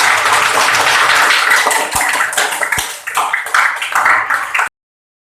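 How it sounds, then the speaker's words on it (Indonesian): A classroom full of students claps together in steady, dense applause for almost five seconds, then stops abruptly into silence. "Ya, tepuk tangan semuanya."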